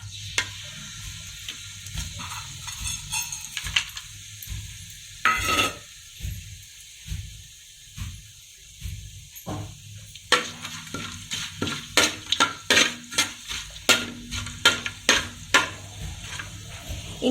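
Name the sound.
bay leaf and whole spices sizzling in hot oil, mushroom biryani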